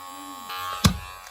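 Electric hair clippers buzz steadily during a skin fade, then a short sharp knock or handling thump cuts through the hum partway through.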